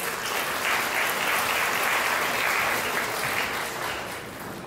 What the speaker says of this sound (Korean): 아버님을 뜨거운 박수로 모시겠습니다.